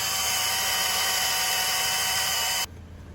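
A power drill bores a 3/16 inch pilot hole through the outside wall of a steel off-road 4x4 vehicle frame, a steady high whine running close and loud for several seconds before stopping abruptly.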